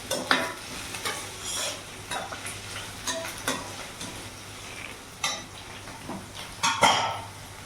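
Whole spices such as peppercorns and cashews frying in a pan for katte pongal, with intermittent stirring scrapes and clinks of a utensil over a faint low sizzle.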